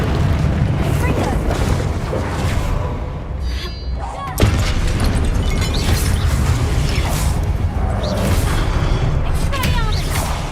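A Confringo blasting spell detonates in Hogwarts Legacy, a loud, sustained rumbling explosion with dense crackling debris. There is a brief dip partway through before the blast surges again, and talk is heard under it.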